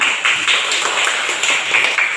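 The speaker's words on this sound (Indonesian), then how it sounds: "Oke, tepuk tangan." Classroom applause from a group of students, brisk irregular clapping of several hands, close and fairly loud, lasting a couple of seconds.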